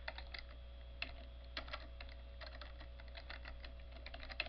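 Steady typing on a computer keyboard, a continuous run of quick, light key clicks with occasional louder strokes, heard close and alone over a low hum.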